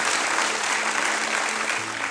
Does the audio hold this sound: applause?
yes